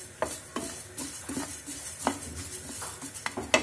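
Masala for a green chilli pickle is roasting in a pan over a low flame, heard as soft, close, irregular scraping and clinking of a spoon against the pan with a faint background sizzle and no talking.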